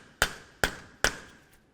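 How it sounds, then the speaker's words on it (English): Three sharp metallic hammer strikes on a punch against the front axle of a 2004–2006 Scion xB wheel hub bearing, evenly spaced and close, each ringing briefly before decaying. "Continue on with a hammer and punch, come right in the center of the axle."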